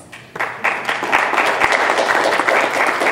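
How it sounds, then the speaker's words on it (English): An audience at a State District 92 forum breaks into a round of applause that starts sparse, swells quickly and holds as a steady, dense clapping that fills the room. "I'd also like you to give yourselves a round of applause"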